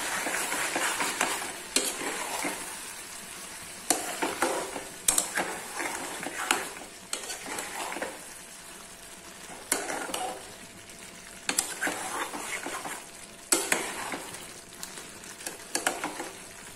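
Chicken fries in a pan with spices such as cumin, chilli, onion, garlic and ginger paste, a steady sizzle broken by repeated scraping stirs at an irregular rhythm, close and fairly quiet, with no talking.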